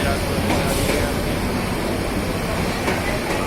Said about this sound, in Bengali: এইমাত্র কক্সবাজার এক্সপ্রেস বিমানবন্দর রেল স্টেশনে ঢুকতেছে।